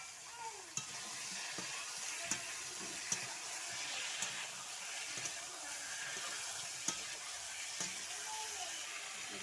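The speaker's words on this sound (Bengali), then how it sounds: "এবার আলু বেগুন আর বড়িগুলো কষায় নেবো ভালো করে।" Potatoes, eggplant and lentil dumplings fry in spices in a pan, a soft continuous sizzle broken by occasional light clicks of a spoon stirring, close and fairly quiet with no talking.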